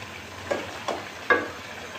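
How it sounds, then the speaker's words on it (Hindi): Oil and spices for a Peshawari Shinwari chicken karahi hit a hot pan, giving three short sizzling bursts close up, each flaring and fading quickly, with no talking. "ये मसाले शामिल कर रहे हैं। ये ऑयल शामिल कर दिया आधे कप जितना।"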